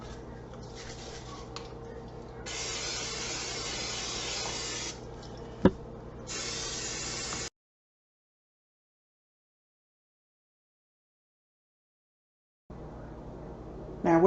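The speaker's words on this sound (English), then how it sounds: "I am just going to use, I can't get it in the camera, some butter flavored cooking spray and spray this down" Butter-flavored cooking spray misted over a pan of Southern cornbread dressing: two steady hissing bursts of a few seconds each, close, followed by silence.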